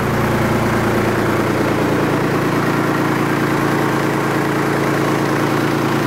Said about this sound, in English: PTO is running.